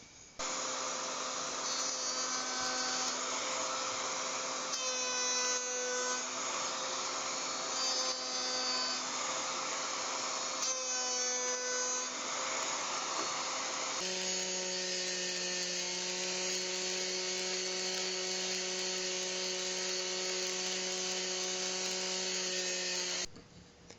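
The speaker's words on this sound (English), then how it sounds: "the bearing has been set in line with the fence, and that'll keep this piece from getting sucked in towards the router bit" A wood router with a roundover bit, its bearing set in line with the fence, whines loud and steady as it shapes wood. The pitch shifts partway through, and the motor cuts off at the end.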